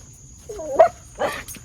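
A neighbor's big dog barks out on the street, two short barks at moderate distance, the second rougher and louder, with a faint steady background hum.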